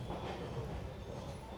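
Train rumbling into platform 1 of Madgaon station in South Goa, an LHB-rake Konkan Railway express, with a steady, close, low rolling roar and faint wheel clatter throughout.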